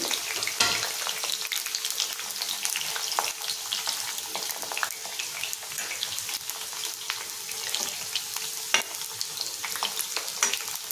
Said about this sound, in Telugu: చక్కగా మీడియం ఫ్లేమ్లో పెట్టి వేయించుకోండి.